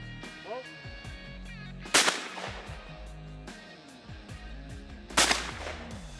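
Shotgun blasts at a shooting competition, two sharp loud reports a few seconds apart echoing over an outdoor background with birdsong and faint voices.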